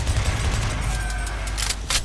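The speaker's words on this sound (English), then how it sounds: "Shooting bullets in your face, it's really fun." Gunfire in Doom 3 over a dense, noisy game soundscape: continuous loud rumbling with several sharp bursts of shots near the end.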